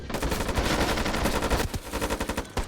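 Rapid automatic gunfire crackles in a tactical shooter video game, loud close bursts of shots that break into shorter volleys with brief gaps toward the end.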